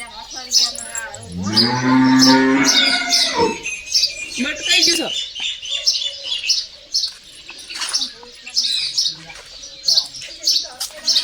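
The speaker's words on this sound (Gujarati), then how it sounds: "good morning guys" A cow gives one loud, drawn-out moo close by in the morning, followed by steady bird chirping and scattered voices in the background.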